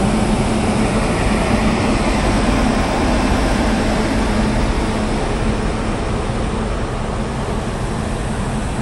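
WAP-7 electric locomotive 37609 at Sealdah station at night, giving a loud, steady, close mechanical roar and hum with no clear breaks.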